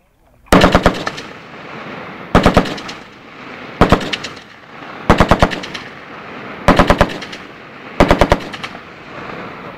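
An M60 machine gun fires six loud, close bursts of several rapid rounds each at a range in Saraburi. Each burst is spaced by about a second of echo and ringing.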